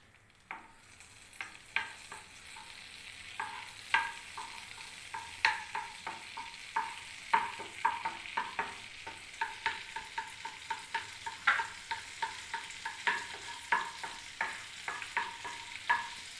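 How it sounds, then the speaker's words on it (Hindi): Butter sizzles in a hot pan while paneer makhni is cooked, a soft steady hiss overlaid by a quiet run of repeated clicks and scrapes, like a spoon stirring against the pan, with no voices. "पैन गरम करेंगे, इसमें डालेंगे बटर"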